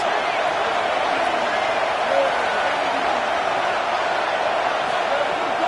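A dense, steady roar of a large stadium crowd at a Texas A&M versus Texas football game fills the whole stretch, loud and continuous with a slight swell near the middle.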